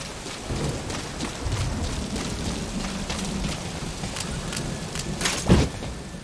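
Steady rain with rumbling thunder in a Metal Gear Solid V video game cutscene, a constant soft downpour with low rolls and a sharper crack near the end, no talking.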